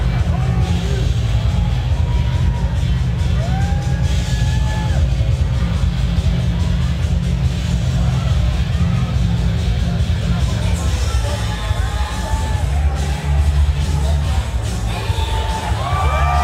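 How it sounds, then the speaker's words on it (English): An arena crowd roars and cheers wildly as fighter Ozzy Judge heads to the cage, with loud sustained shouting, whoops and whistles that fill the whole stretch at close range; an announcer's voice runs beneath the noise. "this crowd is going wild. This is a pro Ozzy crowd"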